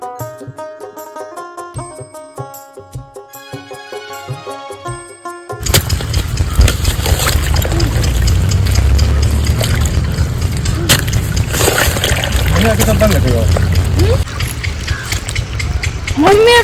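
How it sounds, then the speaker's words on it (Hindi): Water pours into a farm field freshly sown with wheat, a continuous broadband rush that starts abruptly after a stretch of music and runs loud and steady to the end, with faint voices at times. "यहाँ से पानी आ रहा।"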